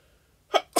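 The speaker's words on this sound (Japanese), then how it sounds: "くしゃみ" A young woman sneezes during a live-streamed talk: two quick, sharp bursts close to the microphone after a near-silent moment.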